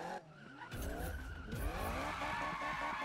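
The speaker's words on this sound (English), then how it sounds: "Time to burn out." Tires squeal hard in a Ferrari 458 burnout in the Need for Speed 2015 drag racing game, a loud screeching skid that starts abruptly after a short pause and holds with a rising engine whine underneath.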